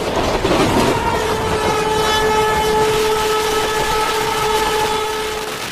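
A train pulls out of Bardhaman station in India, a loud, steady rumble of rolling wagons with a long sustained horn blast running through most of it.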